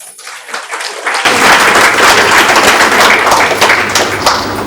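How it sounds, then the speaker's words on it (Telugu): Audience applause at a lecture, rising from scattered claps into a loud, dense, sustained burst of clapping that continues steadily to the end. "దీనికి మీరు చప్పట్లు కొట్టారు"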